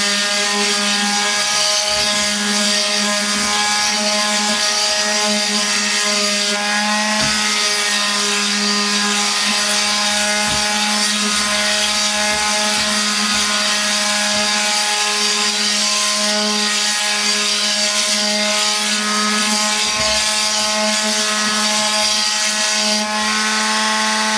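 Steady, continuous abrasive rubbing of roughly 200-grit sandpaper on wood, close up and fairly loud, with a constant mechanical hum underneath and no talking.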